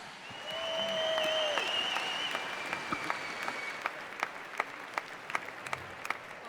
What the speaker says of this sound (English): Big cheer for our British champion, Adam Mallet.